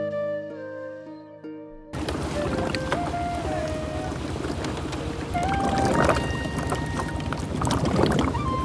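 A boat turns on the open water of Nikli Haor behind a bamboo raft. A continuous rumbling drone carries a few wavering tones over wind buffeting, and brief music plays at the start.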